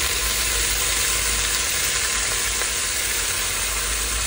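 Meat (gosht) frying in hot oil with golden-browned onions, cumin, cloves, black pepper and cardamom, a steady close hiss and sizzle without a break or any voices.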